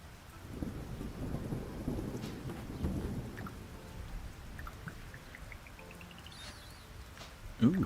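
Rain falls with rolling thunder in the cozy farming video game Fields of Mistria, a steady wash with low rumbles through the first half, ending in a short bright chime-like game effect.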